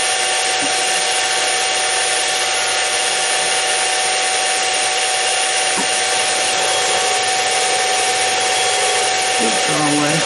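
A milling machine taking a light cut of fifty thousandths, a continuous dense grinding hiss with a steady whine running throughout, loud and close.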